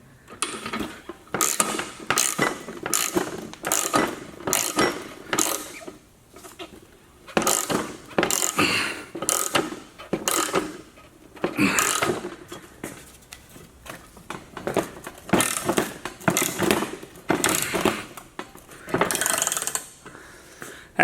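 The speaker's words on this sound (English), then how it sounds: "now I have nicely pressed new bushing in this arm" A new control arm bushing forced into the arm with a press, a long series of close, rhythmic ratcheting clicks and creaks in repeated bursts with short pauses between strokes.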